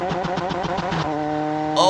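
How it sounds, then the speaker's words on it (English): A Lotus Elise engine in a racing video game hits the rev limiter at 5400 RPM, stuttering in rapid pulsing cuts, then holding a steady high drone, loud and close. "it's cutting at 5400 RPMs for no reason"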